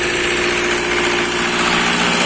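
A homemade mini MTZ tractor engine runs loudly and close up in the snow, a continuous rough idle with a steady low drone and vibration, no voices over it.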